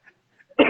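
A single short cough bursts out sharply near the microphone after a few faint, quiet sounds.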